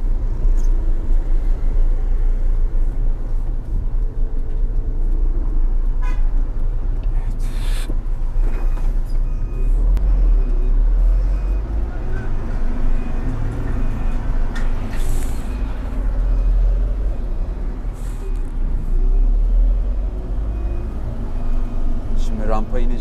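A concrete mixer truck rumbles with a low, steady diesel drone as it maneuvers to park, heavy and continuous throughout, with someone talking over the engine noise.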